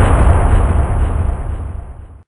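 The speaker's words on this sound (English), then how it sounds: "There's a bomber overhead and they're dropping bombs on us." A bomb dropped from an overhead bomber explodes as a sound effect: one loud, close, broadband blast that rumbles and fades out over about two seconds.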